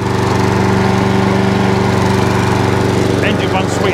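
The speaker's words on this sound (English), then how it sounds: "Engine runs sweet as a nut." Hayter 41 variable drive lawn mower with electric start, engine running after belt replacement and front suspension repair, a loud close steady throbbing drone with an even pulse, and someone briefly speaking near the end.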